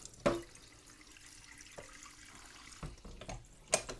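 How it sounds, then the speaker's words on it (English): Cold tap water runs into a kitchen sink over the hot base of a Bialetti Brikka moka pot, a soft steady flow punctuated by a few sharp metallic clunks and splashes. "get that base under some cold water"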